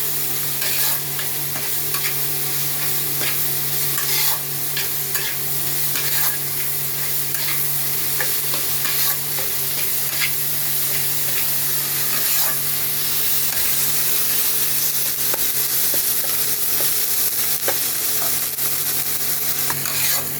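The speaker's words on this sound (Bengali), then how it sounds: "ভালো করে আমি মশলাটা একটু কষিয়ে নেব" A spice paste with turmeric and chilli powder sautés in oil before chicken goes in, giving a dense, continuous sizzle with busy stirring and scraping close by, loud and steady throughout.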